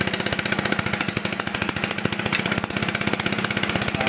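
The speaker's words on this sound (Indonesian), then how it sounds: "motornya langsung nyala ya guys ya" A Honda Beat FI motorcycle engine that had been completely dead fires up and runs with a leaking exhaust, giving a loud, fast, steady pulsing putter close by with no talking.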